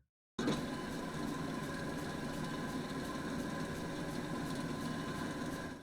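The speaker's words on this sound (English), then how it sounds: "Let's start digging stuff up with the core sample drill here" A core sample drill in the Minecraft Engineer's Life modpack runs with a steady mechanical whir and hum, starting abruptly after a moment of silence and continuing evenly with no talk.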